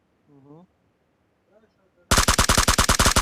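Rapid automatic gunfire strikes the player in the PUBG Mobile battle royale on the Livik map, a loud rattling burst of evenly spaced shots that begins abruptly after a quiet stretch with faint voice.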